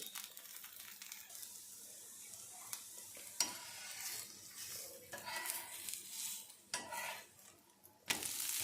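Tomato dosa batter roasting in a little oil on a pan, a soft steady sizzle with occasional scraping and utensil clatter close by, no talk.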